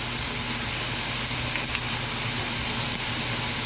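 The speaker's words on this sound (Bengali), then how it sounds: "ছোট চামচ তো 1 চামচ জিরা ফোড়ন দিলাম।" Cumin seeds sizzle loudly and steadily in hot oil, tempering a bottle gourd dal. The frying hiss is close and unbroken, with no talking over it.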